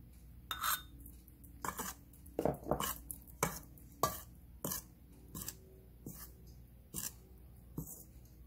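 Eggs being mixed in a bowl for rose-shaped har gow dumplings: a series of separate clinking, scraping strokes of a utensil against the bowl, close and quiet, spaced about a second apart.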